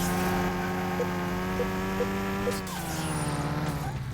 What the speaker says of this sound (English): Oh God, I'm trying to drift.